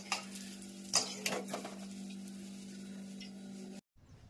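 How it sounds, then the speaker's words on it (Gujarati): Curry leaves hit hot oil for the tempering of homemade chevdo, giving a steady close sizzle with a few sharper crackles early on before the sound cuts off abruptly. "લીમડી નાખીને વઘાર કરશું."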